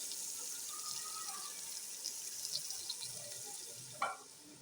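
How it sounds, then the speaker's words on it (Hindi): Water poured from a tap into a bowl of pakora batter made with gram flour, a soft continuous trickle with a brief louder splash near the end, quiet and close. "तो इसमें आप थोड़ा पानी डाल लें।"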